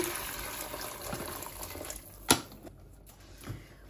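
Hot water poured into fried spice masala in a cooking pot while making basmati rice polau, a rushing, sizzling wash of liquid for about two seconds that fades into quieter bubbling with a brief clatter.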